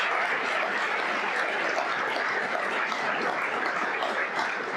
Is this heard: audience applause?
yes